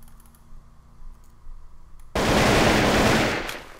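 An AK-47 from a Minecraft gun mod fires a sudden, loud burst of rapid automatic shots after a quiet stretch, the rattling volley running on for over a second before tapering off.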